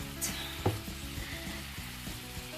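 Bacon frying in a pan gives a steady, close sizzle with soft stirring scrapes and a brief clink of utensils early on, with no voices.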